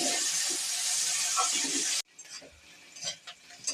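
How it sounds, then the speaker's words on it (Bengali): Chopped onion hits hot oil in a pan where leaves were already fried, giving a loud, dense hiss for about two seconds before it settles into quieter crackling and stirring. "পেঁয়াজটা একটু ভাজা ভাজা হবে।"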